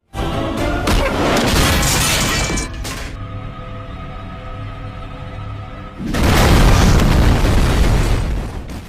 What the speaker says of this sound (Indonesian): Setelah ledakan di pabrik tersebut terjadi